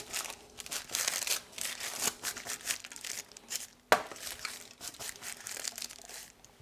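Paper crinkling and crumpling as it is folded into a chocolate cup mould, a steady close rustle with one sharp crackle partway through, no talk.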